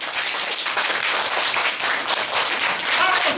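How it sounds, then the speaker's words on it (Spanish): Children in a school class clap loudly at a Christmas visit from Santa Claus, a dense, steady burst of applause filling the room for a few seconds. "Un aplauso fuerte."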